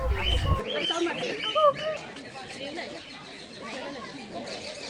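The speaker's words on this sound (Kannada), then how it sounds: "ಇಲ್ಲಿಂದ ಪಕ್ಷಿಗಳು ಸ್ಟಾರ್ಟ್ ಆಗುತ್ತೆ ನೋಡಿ" Birds in the bird section at Bannerghatta zoo, with several chirps and calls and a soft pigeon-like coo, set against voices and light background chatter.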